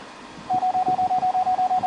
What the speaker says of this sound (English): our parking sensors are just engaged. The closer we get, the faster the beep will be.